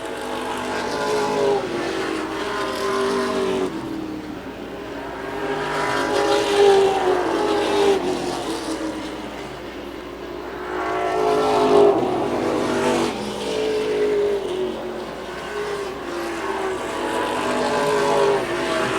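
Several race cars work through lap traffic late in a 2023 event, engines swelling and fading in repeated waves as they pass, loud and continuous with no talking.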